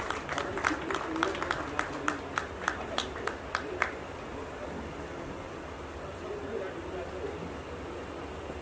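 A poetry gathering's audience greets a poet with a short burst of scattered hand claps that lasts about four seconds before giving way to quiet room murmur.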